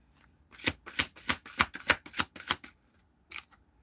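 Tarot cards are shuffled by hand in a quick run of about eight crisp riffling bursts, close and clear, followed by a brief pause and one last soft shuffle.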